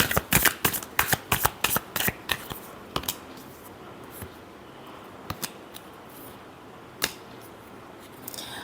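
Tarot cards being shuffled, a quick run of crisp riffling flutters at the start, then sparser single card snaps and taps over quiet room noise, close and alone.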